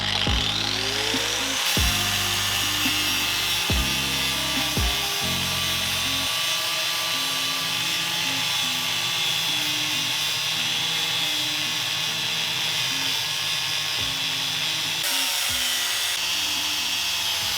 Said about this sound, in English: I've got to cut the drop link off of the strut, and to do that I'm going to be using the angle grinder